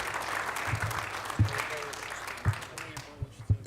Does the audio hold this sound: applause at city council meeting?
yes